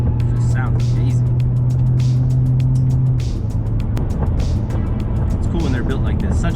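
Lexus GS300 sedan with a 2JZ-GTE engine driving, a loud continuous engine drone that holds a steady low tone and then shifts as the car moves on, with road noise throughout.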